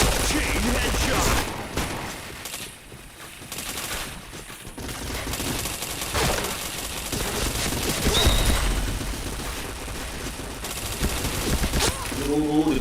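Sustained video game gunfire with repeated headshot shots, loud and continuous over about thirteen seconds, with dense bursts and a speaking voice toward the end.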